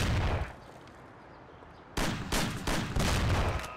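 Shotgun fire in the 1930s gangster game Mafia, close-range combat: a dull rumble, then several sharp, loud blasts in quick succession about half a second apart.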